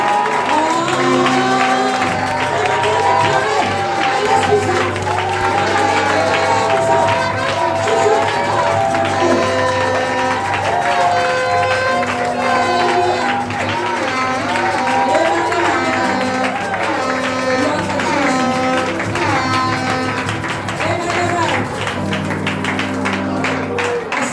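A church congregation at a Gabonese spiritual gathering claps and cheers loudly and continuously, with voices and music mixed into the dense crowd noise.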